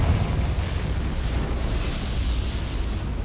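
A Confringo spell explosion in the video game Hogwarts Legacy gives a loud, sustained blast-like roar, dense and noisy throughout, heard alone with no talk.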